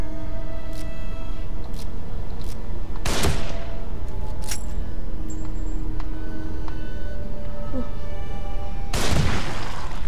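Gunfire in the horror video game The Evil Within, with sharp broadband shots around three and nine seconds and smaller bursts in between, heard over a steady game ambience and faint voices.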